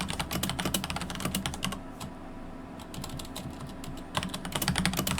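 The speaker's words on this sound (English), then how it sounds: "Loud keyboard types." Loud clacking on a computer keyboard, rapid close keystrokes in dense bursts with a brief slower stretch in the middle, heard alone without talk.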